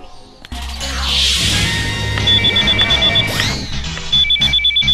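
A telephone rings in short repeated electronic bursts during a Bhojpuri film scene, heard over a busy background of music and clatter.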